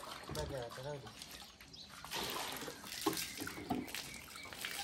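Water is thrown in bursts onto a village courtyard ground, sloshing and splashing loud and close while people talk nearby.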